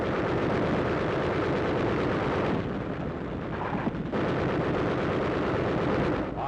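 Battle sounds from a 1945 assault on Zebra Hill: loud, dense machine gun bursts and heavy artillery fire roar almost without pause, with a brief dip in intensity midway before the barrage surges again.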